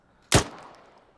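A single sharp gunshot in Arma 3, a loud crack followed by a short decaying echo, heard alone with no talk.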